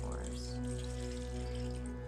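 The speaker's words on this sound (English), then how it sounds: "let's pour the water in as a conduit" Water poured for a black cat oil spell ritual, a brief steady splashing stream heard up close, with a constant low hum running underneath.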